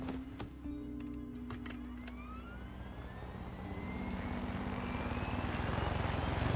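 A video game helicopter's rotor and engine whine in Far Cry 6 steadily build in loudness, with a rising turbine pitch and a few clicks at the start.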